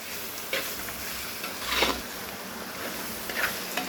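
Onion, ginger and green chilli fry in a pan with a steady, close sizzle, broken by a few scraping stirs that swell the sound briefly before it settles back to a constant hiss.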